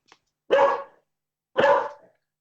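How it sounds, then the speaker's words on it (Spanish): A dog barks twice as someone approaches, two loud, close, separate woofs about a second apart with silence around them. "Teo, mi perro, alguien viene"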